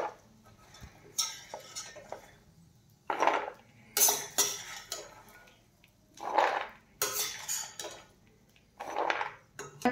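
Fried dry fruits being moved from a pan to another plate while making methi ladoo, giving a series of scattered metallic clinks and scrapes of a spoon against utensils, moderately close and fairly quiet, with no talk.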